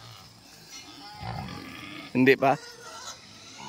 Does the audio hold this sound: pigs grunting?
yes